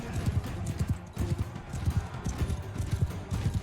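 A horse's hooves clip-clop steadily in Mount & Blade 2: Bannerlord, a quick, continuous gait, fairly close with background noise.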